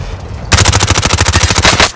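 Rapid, loud machine gun fire in the video game Call of Duty: Warzone, a steady burst of evenly spaced shots lasting about a second and a half after a brief quiet start, close and unbroken.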